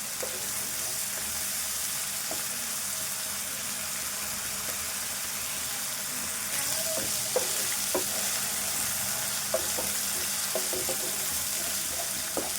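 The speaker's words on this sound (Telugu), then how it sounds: "మసాలాలు, ఉల్లిపాయ అన్నీ, అల్లము ఎల్లుల్లి పేస్టు అన్నీ కూడా ఇట్లా వేగాలి." Spices, onion and ginger-garlic paste sizzle steadily in a pan for chicken masala soup, a loud continuous fry with occasional clinks of a spoon stirring, no talk.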